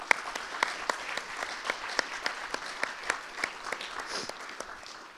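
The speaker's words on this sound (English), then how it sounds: "Let's give Marie and Francis another big round of applause." Applause from a symposium audience on a university campus for two panelists, a light patter of individual claps that stays fairly sparse and moderately quiet for about five seconds, tapering slightly at the end, with no talking.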